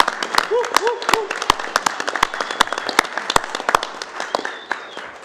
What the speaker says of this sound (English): Let's just give a round of applause to David for all his hard work